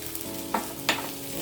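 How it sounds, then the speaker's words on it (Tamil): Turmeric and chili powder fry in hot oil for chicken biryani, sizzling and crackling continuously up close, with a couple of brief stirring scrapes. "ரெண்டையும் இந்த எண்ணெயில் அப்படி இப்படி செய்யுங்க. எண்ணெயில் பொரியற மாதிரி."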